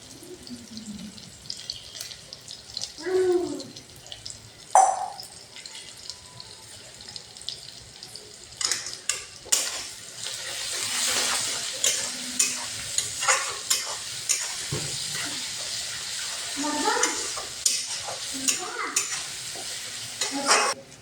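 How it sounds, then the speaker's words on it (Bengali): Ginger-garlic paste goes into a pan of browned fried onions, with stirring scrapes and a soft sizzle running throughout, plus a few louder clatters and knocks of the spoon against the pan. "পেঁয়াজ ভাজা ভাজা হয়ে গেছে বন্ধুরা লাল লাল ভাজা ভাজা হয়ে গেছে এখন আদা রসুন বাটা দিয়ে দেবো"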